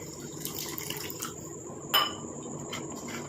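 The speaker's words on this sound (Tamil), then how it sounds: "இப்போ இதில் வந்து நம்ம தண்ணி தான் சேர்க்க போகிறோம்." Water poured into a roasted black cumin mixture in a kitchen, a soft trickling pour with a few light clinks of a vessel and one sharper knock midway, fairly quiet and without talk.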